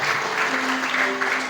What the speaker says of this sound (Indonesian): Tepuk tangan untuk kita semua yang hari ini.